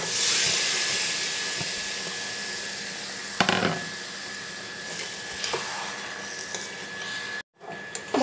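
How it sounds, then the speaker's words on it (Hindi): Chicken dropped into masala frying in hot oil for a home-style chicken masala curry, giving a loud, steady sizzling hiss with a few clatters of stirring, cut briefly near the end. "तो एखन चिकन डा दे देमा"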